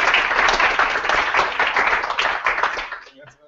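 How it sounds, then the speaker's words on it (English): Audience applause for a best paper award at the 2014 Algerian Paper of the Year Awards, a dense, steady crowd of clapping that holds for about three seconds and then fades out. "So a round of applause for best paper."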